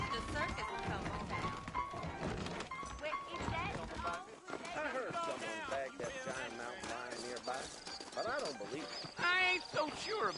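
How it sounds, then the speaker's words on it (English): Horses in the video game Red Dead Redemption, hooves clip-clopping at a steady trot with a neigh or two, mixed under game music and voices talking throughout. "I got the horses saddled up and ready out front."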